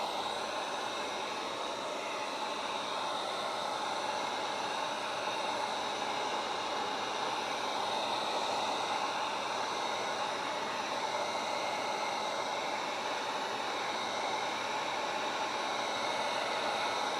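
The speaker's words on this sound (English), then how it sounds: "if you have a heat gun, you can just give it a quick pass with a heat gun" A heat gun blows continuously over shoe adhesive, a steady loud airy roar with no breaks and no voices.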